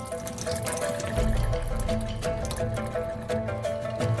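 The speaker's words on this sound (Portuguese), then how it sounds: "Escorremos a água do feijão preto na pia." Water drained from black beans into a kitchen sink, a continuous close splashing and trickling pour that runs steadily throughout, with no one speaking.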